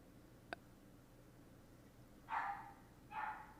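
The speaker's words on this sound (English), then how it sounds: "my dog barking?" Two short barks from a dog indoors, fairly far off and moderate in loudness, arriving about a second apart after a brief click.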